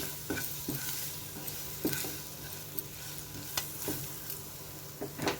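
A spoon stirs spice powders into a sizzling pan while mutton boti fry cooks, with soft, irregular scraping taps over a steady low frying hiss, all fairly quiet.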